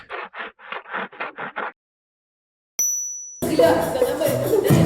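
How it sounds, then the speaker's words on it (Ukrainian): A theatre's third bell rings before a performance at a rehearsal: a single bright ding after a short pause, following brief voice-like bursts and giving way to a noisy, scraping backdrop. "пролунав третій дзвоник."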